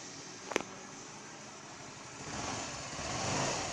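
A Honda Lead 110 scooter from 2014 idles after an engine repair, a faint, steady low engine hum with one brief click near the start and no speech.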